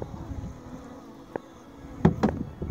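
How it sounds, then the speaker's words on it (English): Bees buzz close by in a steady hum while honeycomb is uncapped, with a couple of sharp knocks and louder bursts near the end. "These bees are back on me."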